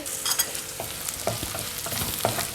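Onions brown in a sizzling pan for dal makhani as a utensil stirs and scrapes them in quick, uneven knocks over a continuous close frying crackle.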